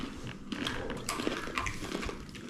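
Hard, very crunchy snack from a 120-gram packet bitten and chewed up close, giving a run of sharp irregular crackling crunches with no talk.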